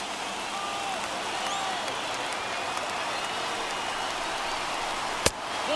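A baseball stadium crowd of more than 36,000 at an Astros versus Red Sox game with the bases loaded, heard as a broad, steady roar of cheering and noise, with a single sharp crack near the end.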